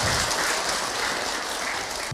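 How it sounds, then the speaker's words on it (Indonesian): Audience applause for a woman who asked a question at an Islamic religious lecture, a steady, dense wash of clapping that sounds like rain and holds at an even level for about two seconds. "Tepuk tangan dong buat ibu yang bertanya"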